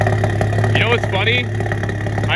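A turbocharged Volkswagen MK7 engine with a catted downpipe idles steadily with a low, even hum, while chirpy squeaks and some background voices come and go over it.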